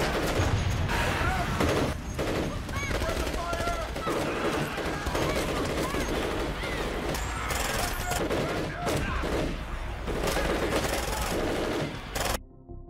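Sustained automatic gunfire rattles through a zombie movie battle scene, dense and loud with overlapping bursts and crashes, while a narrator speaks over the action almost the whole time.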